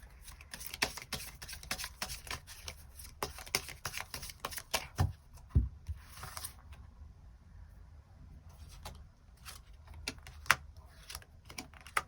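Tarot cards shuffled and drawn by hand, a long run of quick papery riffles, flicks and soft slaps close up, with a few sharper snaps along the way and no voices over it.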